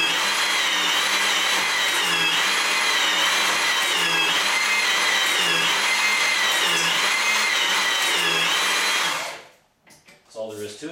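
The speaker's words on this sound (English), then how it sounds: "to position the Avanti machine, and we'll break the bolt loose" A HYTORC Avanti tool breaks a stud bolt loose with a loud, steady high-pitched whine and a pulsing rhythm, running for about nine seconds before cutting off abruptly, with brief clattering afterward.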